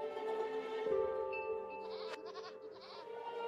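Goats bleating in the video game RimWorld, a couple of wavering, nasal bleats heard near and fairly clear over quiet background, with a short sharp click midway.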